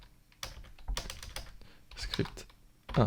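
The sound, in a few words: typing code on a computer keyboard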